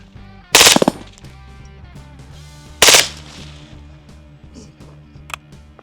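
An MP7 submachine gun fires two separate short bursts, loud and close, with quiet room tone between them and no talking.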